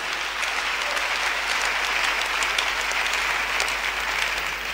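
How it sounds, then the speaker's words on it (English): Sustained applause from a church congregation at a prophetic revival service in Koforidua, Ghana, a dense steady clapping that fills the whole stretch at an even level. "Oh, clap your hand for this."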